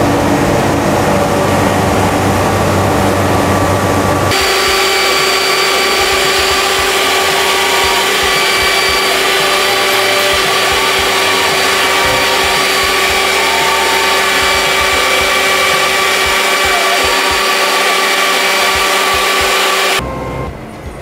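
A fabric cutting machine cuts through cloth in a Coimbatore workshop, its motor starting abruptly and running as a loud, steady, close whirring drone for about sixteen seconds before cutting off.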